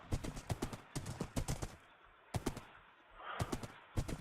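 Horse hooves clip-clop in quick clustered bursts as a rider travels along in Minecraft, loud and close, with short pauses between runs of steps and no talking.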